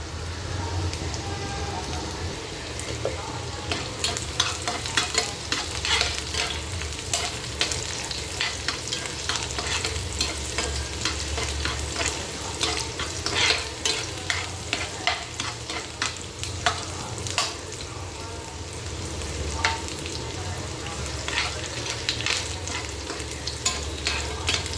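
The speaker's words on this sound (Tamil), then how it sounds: "வெங்காயம் இந்த அளவுக்கு வசங்கிடுச்சு." Onion sautéing with three cloves of garlic in a pan, a continuous close sizzle broken by frequent rhythmic scraping and tapping of a spoon as the pieces are stirred.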